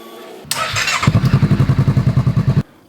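A damaged salvage motorcycle engine cranks with a brief burst of noise, then catches and runs with a loud, steady, rapid pulsing idle for about two seconds before cutting off abruptly.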